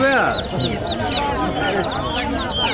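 Local free-range chickens cluck and squawk continuously up close at a centuries-old rural livestock market in Munshiganj, Bangladesh, with people haggling over prices nearby.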